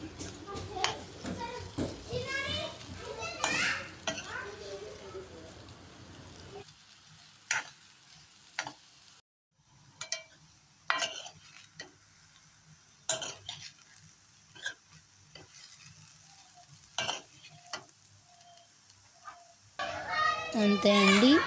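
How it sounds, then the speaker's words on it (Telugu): Raw banana pieces are stirred in a pan for a Telugu-style curry, with soft scraping and spoon knocks against the pan in scattered bursts, under someone talking and occasional children's voices nearby. "అరటికాయ ముక్కలు బాగా మగ్గేంత వరకు ఇలా కలుపుతూనే ఉండాలి"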